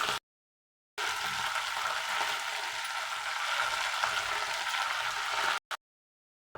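Okra with freshly added tomato fries in a pan, giving a steady, close sizzle that holds evenly for about five seconds between brief silences.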